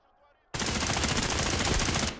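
A sudden burst of rapid automatic gunfire erupts in a video game shootout and continues as a loud, dense rattle for over a second and a half after a quiet start.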